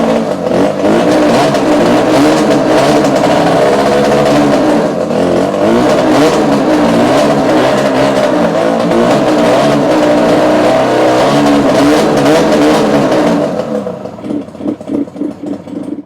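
A Yamaha RZ350 motorcycle engine runs loud and steady, revving with a rough, continuous drone for about thirteen seconds before dropping to uneven, sputtering pulses as it struggles to keep idling.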